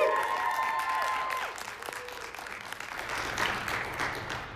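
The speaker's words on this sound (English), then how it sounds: "Give another round of applause for Jonathan Aller's own High Society Show Choir" The audience applauds the High Society Show Choir at a school music festival in an auditorium, a sustained, moderately quiet spread of clapping that fades slightly and swells again, with a lingering tone at first.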